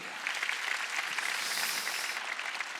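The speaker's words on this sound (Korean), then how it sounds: "박수 쳐야 돼요" Congregation clapping during a Korean church worship service, a dense, steady wash of many hands sustained throughout, moderately distant, with faint voices underneath.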